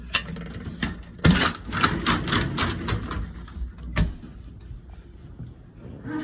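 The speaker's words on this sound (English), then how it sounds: "when the rollers roll over the seams, it makes a little bit of a noise. And also the motor makes a little bit of a noise too" Home residential elevator running, its rollers clunking over rail seams with a steady motor hum beneath, producing a series of close, uneven knocks and rattles.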